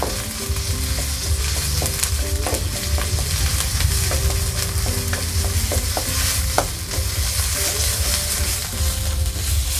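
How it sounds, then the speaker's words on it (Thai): Curry paste stir-frying in a pan over medium heat: a steady loud sizzle throughout, with repeated scraping clinks of a spatula against the pan at an irregular rhythm. "ลงไปผัดได้เลยค่ะ ใช้ไฟกลางนะคะ ผัดพริกแกงให้หอมเลยนะคะ"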